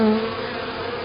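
A honeybee swarm in Lithonia, Georgia, hums in a thick, even buzz close by, steady throughout with no voices.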